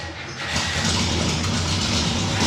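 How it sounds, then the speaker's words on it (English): A 1965 Chevelle SS with a 4-speed and dual exhaust cranks and fires up from a cold start, settling into a loud, steady, rumbling run close by. "Kind of a cold start there, fires up."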